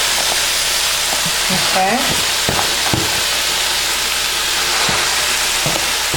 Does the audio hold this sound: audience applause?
no